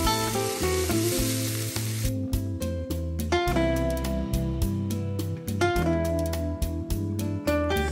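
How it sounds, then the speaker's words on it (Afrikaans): Flour is stirred into chicken with basil pesto and a little oil in a pan, giving a steady frying sizzle and hiss under prominent rhythmic background music with a beat. "Roer die meel goed deur"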